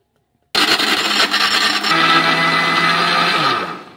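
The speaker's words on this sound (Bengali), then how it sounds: "মিশ্রিগুলো গুঁড়ো করে নেব, মিক্সিং বোলের মধ্যে নিয়ে নিচ্ছি।" A mixer grinder starts abruptly and runs loud and steady while grinding rock sugar (misri) in its bowl. The whirring roar carries a gritty rasp and eases slightly in pitch toward the end.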